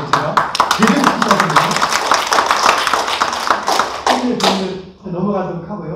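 Lecture audience at Ajou University clapping on request, a burst of many hands close and loud that thins out over several seconds, followed by a voice speaking as the clapping fades.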